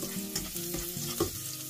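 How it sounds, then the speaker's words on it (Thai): Garlic in oil sizzles and crackles steadily in a pan, with a spatula scraping and stirring now and then close by. "ตั้งกระทะใส่น้ำมันให้ร้อนแล้วก็เอากระเทียมลงไปเจียวให้หอมค่ะ"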